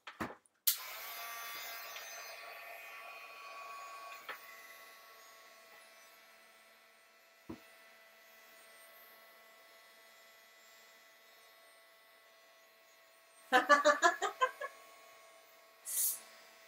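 A heat tool drying paint on a mixed media canvas makes a faint, steady electric whine that runs for several seconds, with a few short clicks and brief bursts of noise near the end.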